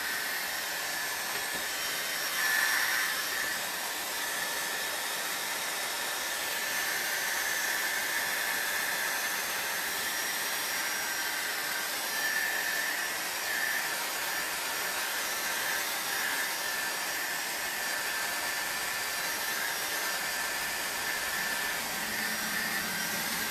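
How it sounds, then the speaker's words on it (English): A small Big Shot hair dryer blowing over a freshly painted canvas, a continuous close whirring hiss of fan and airflow that runs unbroken and fairly even throughout. "I'm going to run my Big Shot hair dryer. It's a fairly small dryer for a few moments just to dry this off."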